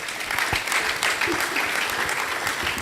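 Audience at a panel session on climate and environmental resilience in extractive communities clapping, a dense, steady burst of applause filling the room for a few seconds.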